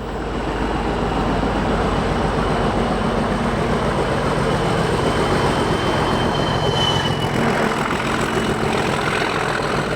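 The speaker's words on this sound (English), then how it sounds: "The smaller Class 37s were adopted as BR's standard mid-powered diesels and may be seen at York on freight such as this engineer's train." A British Rail Class 37 diesel locomotive hauls an engineer's freight train at York, its engine drone and rolling wagons loud and continuous throughout, with a faint wheel squeal partway through.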